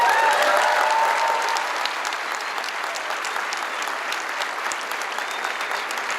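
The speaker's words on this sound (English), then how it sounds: "That deserves a round of applause." Audience at a 2019 community college graduation ceremony breaks into sustained applause, loud and dense at first, then settling to a steady, slightly softer clapping that fills the hall for several seconds.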